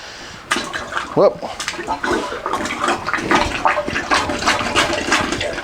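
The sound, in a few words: plunger pumping water out of a toilet trap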